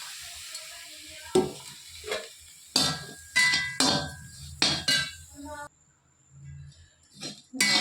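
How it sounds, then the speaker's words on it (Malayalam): Stirring and scraping of grated coconut roasting in a hot pan with soft sizzling, a spatula clattering in irregular strokes, with brief pauses between. "ചൂടായാൽ നമുക്ക് തേങ്ങ ഇതിലിട്ട് വറുക്കാം"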